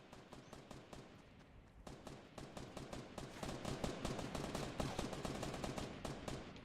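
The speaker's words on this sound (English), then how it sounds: "shots over to the right." Rapid gunfire from a Fortnite match, with a steady stream of sharp automatic shots repeating throughout, moderately loud with no talking.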